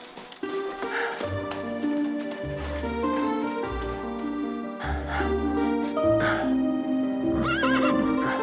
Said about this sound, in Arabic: تعا خذ الحصان.